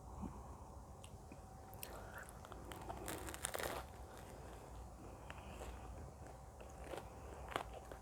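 A Pizza Hut cheesy garlic bread roll is bitten and chewed close up, giving soft repeated crunches and moist mastication with occasional crinkling, all fairly quiet.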